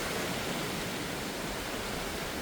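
Strong monsoon wind on a Boracay beach, a loud continuous broadband rush with possible surf mixed in, steady and close with no talk.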